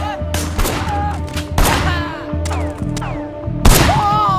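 Sleeping Dogs gunfight with loud, close volleys of gunshots in several clustered bursts, each followed by ringing echoes, over a constant engine-like drone.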